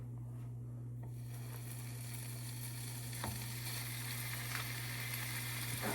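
Cheese sizzles steadily in a hot frying pan for a burrito, a constant crackling fry with a low electrical hum beneath and a couple of faint clicks, no voices.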